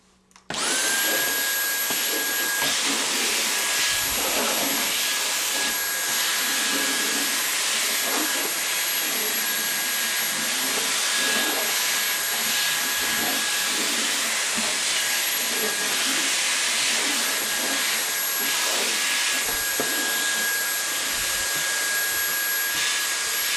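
A vacuum cleaner runs continuously and loudly, cleaning up scattered cat litter around an open-air automatic litter box, holding a steady high whine and rushing roar from start to finish with no talk.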